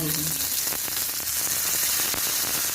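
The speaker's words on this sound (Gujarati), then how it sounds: "વઘાર આમાં નાખી દઈએ." Hot tempering of chana dal and urad dal poured into peanut chutney, giving a steady loud hiss and crackle of oil that sizzles without a break.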